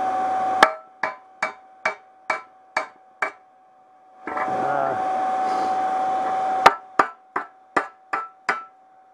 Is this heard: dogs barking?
no